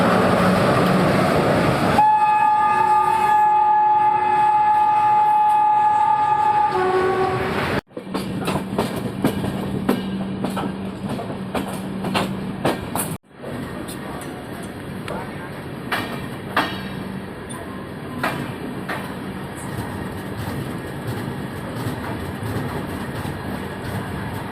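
A train stops at the Chhapra Kachahri halt. A long horn blast sounds first, followed by loud rumbling and clickety-clack of the railcars and brake noise as it slows. Background voices are heard throughout.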